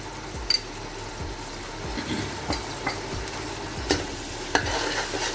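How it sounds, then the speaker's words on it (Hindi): Garlic-ginger paste fries in a pan for a chicken pulao, a low continuous sizzle broken by a few scattered scrapes and clicks of a spoon, close by with no talking. "और इसको हम अच्छे से भून लेंगे जब तक उसकी स्मेल ख़त्म ना हो जाए लहसुन अदरक की"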